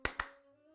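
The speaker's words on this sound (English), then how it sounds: "Wait, can I pause the music by clapping twice?" Two quick, crisp hand claps sound close together, then a faint lingering musical tone hums beneath.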